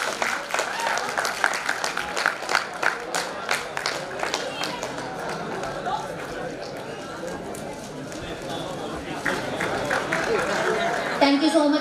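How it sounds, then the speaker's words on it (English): Clapping from a crowd at a college silver jubilee sports event, a speaker's voice continuing over the sustained applause, which swells again toward the end. "Please give a big round of applause"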